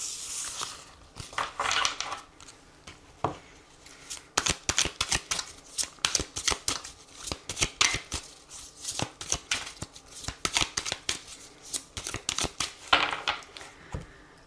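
A deck of tarot cards being shuffled up close, with repeated quick riffling and flicking bursts in a steady rapid rhythm, with no voices.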